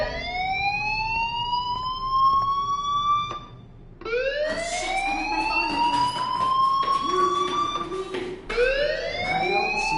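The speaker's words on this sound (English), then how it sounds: "Hey, do you hear that fire alarm?" A fire alarm rings in the video game Life is Strange, a loud rising electronic siren wail that repeats about three times in long sweeping cycles over a low background hum.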